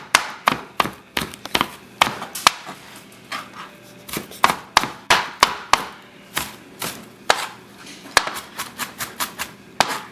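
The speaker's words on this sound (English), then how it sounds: "So your goal is to make sure that all your chopping is small and thin" A knife chops Hmong egg roll filling into small, thin pieces on a cutting board: quick, sharp, close cuts in uneven bursts throughout, with no talking.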